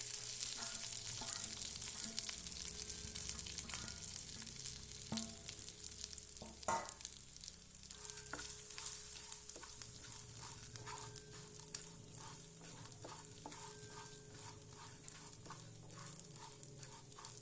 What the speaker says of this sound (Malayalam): അതും കൂടെ ഒന്ന് നെയ്യിൽ വറുത്തെടുക്കാം